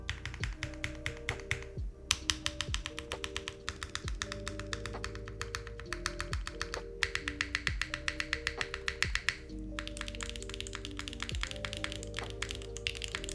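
Steady clacking of keys being typed on a mechanical keyboard, crisp and close, with brief pauses between runs and a faint electronic hum underneath.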